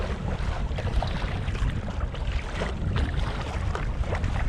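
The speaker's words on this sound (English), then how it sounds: "we're heading into the wind, so I'm imagining that the audio is going to not be that good" Strong wind roaring over the microphone while kayaking into a headwind on a big swell on the North Sea, a steady loud rumbling buffet with splashing water throughout and no talking.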